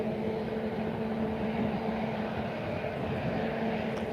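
A Ryanair airliner taxis at Lisbon Airport on a sunny afternoon, its engines giving a steady, continuous broadband roar with a low hum, moderately loud and unbroken, with no voices over it.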